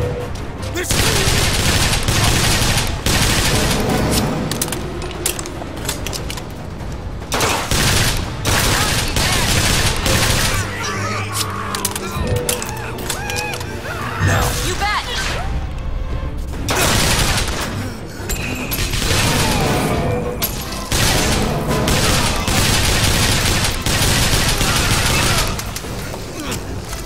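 Sustained carbine gunfire in the game BioShock Infinite: Burial at Sea rattles on loud and dense for most of the stretch, with brief pauses and heavier booming hits, while a voice talks over it at times.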